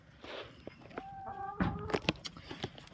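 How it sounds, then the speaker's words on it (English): Chickens at a family farm gathering, giving a few faint, brief clucks and squawks at close range amid light footsteps and shuffling. "There's his chickens."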